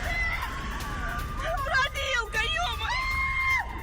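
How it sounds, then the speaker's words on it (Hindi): After an attack in Tambov, Russia, people scream and shout in a chaotic crowd, with wavering high-pitched cries and yells rising and falling continuously over a noisy background. "इलाके में जैसे ही अटैक हुआ उसके बाद चीख पुकार मच गई"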